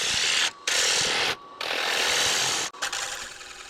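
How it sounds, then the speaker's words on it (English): Wooden bowl turning on a lathe with a 3/8 inch bowl gouge, a loud continuous hissing, scraping cut near at hand, broken by two short pauses and a brief dip as the tool lifts, with no talking. "I'm using my smaller 3/8 inch bowl gouge to do most of the fine work on the outside"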